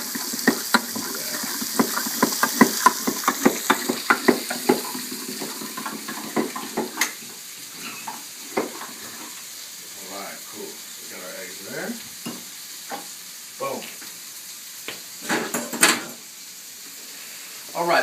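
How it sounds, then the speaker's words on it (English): Bacon and chopped vegetables sauté in a pan for a primal scramble, with a steady sizzle and frequent clattering stirs and scrapes, loud at first and then sparser, with a voice talking at times. "We got our bacon, and our veggies, sauteing up, all nice."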